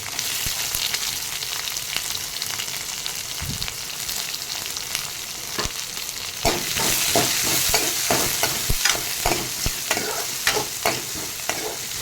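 Onion, garlic and curry leaves sizzle in hot oil in a pan for egg curry, a constant close crackle broken by repeated scraping stirs of a spoon against the pan.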